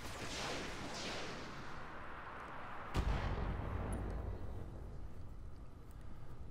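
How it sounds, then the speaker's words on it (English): Heavy mech weapons fire in the Roguetech BattleTech mod, including a Gauss rifle and SRMs, loosed at an 85-ton mech: loud booming volleys, with a sharp crack near the middle and a sustained rumbling roar after it. "Let's just dump everything into this guy. Fire it all."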